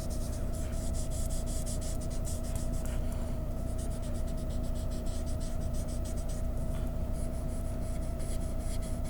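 A paper blending stump rubs across a graphite pencil drawing, its side stroking the paper in a continuous dry scratchy rasp with quick repeated strokes, close and steady.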